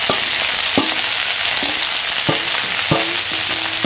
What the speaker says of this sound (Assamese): তেলখিনি গৰম হ'ল, এতিয়া মই নহৰু আৰু শুকান জলকীয়া ফোৰণ দিলোঁ।